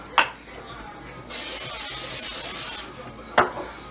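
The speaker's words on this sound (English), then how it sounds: "spray it with extra virgin olive oil" A long, steady aerosol spray of extra virgin olive oil cooking spray into a pan hisses for about one and a half seconds between two short clicks or taps, close by, with no talking.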